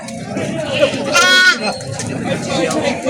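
A goat at a rainy livestock market in Padre Garcia, Batangas gives a single loud, wavering bleat in the middle, while people nearby talk and haggle throughout and other market noise carries on in the background.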